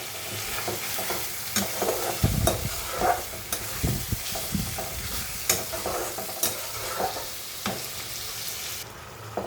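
Spice paste and tomatoes frying and being stirred in a pan, a steady close sizzle broken by repeated scraping stirs and clinks of a spoon, with no one speaking.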